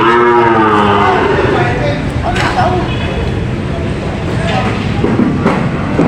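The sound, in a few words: water buffalo at livestock market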